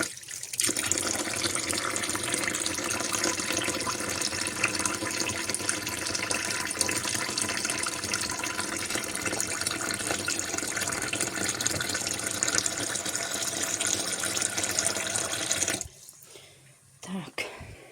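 Warm water runs from a tap in a steady, loud, continuous rush that stops abruptly near the end, followed by quieter handling sounds.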